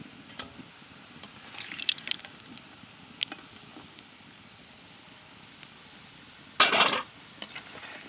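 Soybean kofta balls fry in oil, with a low, even bubbling sizzle broken by scattered clinks and one louder burst of spatter or scraping near the end.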